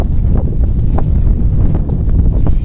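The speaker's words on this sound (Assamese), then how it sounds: "ধুনীয়া বতাহ মাৰি আছে" Steady wind blowing and buffeting outdoors, a constant low rumble with faint rustling, no voices.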